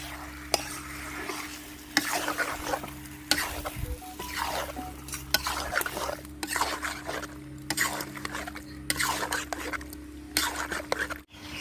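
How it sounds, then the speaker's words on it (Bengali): Chicken meat being stirred with spices and turmeric in a pan on the stove, a steady scraping and stirring with low sizzling underneath and occasional utensil knocks against the pan. "মাংসর মধ্যে আমি দিয়ে দিচ্ছি আর একটু ভালো করে মশলার সঙ্গে নেড়ে চেড়ে মিশিয়ে নিচ্ছি"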